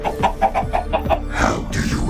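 A chicken in a Minecraft animation clucks in a quick rhythmic series of short, close, fairly loud calls, followed by a brief jumbled flurry of sound.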